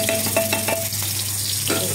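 Spices for a sambhar tadka crackle and sizzle in hot oil, a close, bright spattering with a few sharp pops and a stirring scrape.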